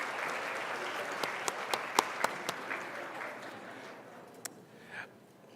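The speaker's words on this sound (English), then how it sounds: "Once again, some applause for Jonathan Gilfan, Thomas Johnson, and Evan Pa" Applause from a crowd, dense clapping with a few sharp individual claps standing out, gradually thinning and fading away toward the end.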